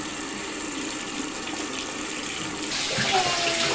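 Tap water runs steadily while something is rinsed off, a continuous close rushing that swells louder near the end, with faint background sounds.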